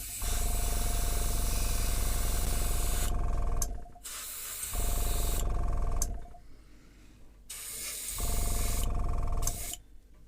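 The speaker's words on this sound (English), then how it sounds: "I'll put a little bit more paint through and then do the wing camouflage, which I'm going to do freehand" An airbrush sprays paint freehand onto the wing of an Airfix 1:72 FW190 model plane, giving a close, steady hiss in three long bursts separated by brief quieter gaps.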